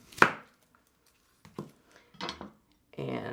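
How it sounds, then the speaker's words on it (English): A knife chops through vegetables on a cutting board in a few separate, sharp strikes with short pauses between them, then a longer rasping cut at the end. No one speaks. "The best thing you can do is just cut these right in half."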